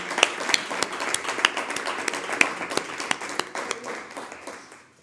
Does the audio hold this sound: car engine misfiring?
no